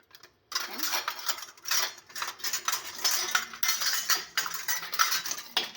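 Small metal kitchen utensils clink and rattle close by as a small milk filter is picked up, with light, busy tapping and scraping throughout.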